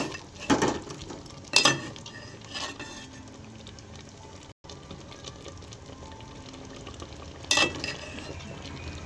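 Ground coriander, cumin and curry masala sauté in a pan for chicken curry with a soft, faint sizzle. A few scattered stirring clatters of a spoon against the pan cut through it, and there is no talk.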